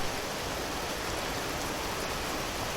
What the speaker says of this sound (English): Oh, and it's hailing around by the bees.